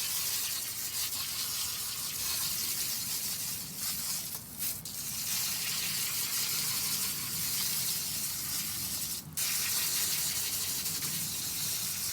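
Steady hiss and spray of a garden hose washing out hydroponic Dutch buckets, continuous and close, with a few brief dips where the stream is interrupted.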